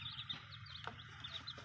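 Chickens cluck softly and repeatedly nearby, with high chirps and a brief louder squawk in the middle.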